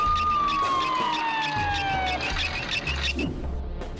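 An ambulance siren in the video game Poppy Playtime Chapter 3 wails with a long descending tone, loud and steady over a low rhythmic background, with no voices.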